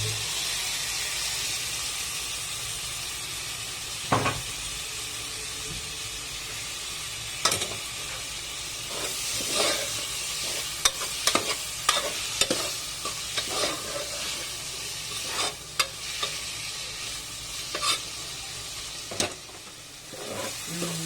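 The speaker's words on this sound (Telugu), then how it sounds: "ఇవి ఉల్లిపాయలు వేగినాయి కదా, ఇప్పుడు టమాటా వేసుకుందాం" Tomatoes going into fried onions in a pan, continuous sizzling with repeated spoon scrapes and knocks against the pan, close up and irregular, no talking over it.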